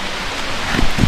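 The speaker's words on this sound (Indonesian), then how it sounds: "Hujan semakin besar." Heavy rain pours down steadily outdoors at a graveyard site, a close, dense hiss that swells louder toward the end, with no talking.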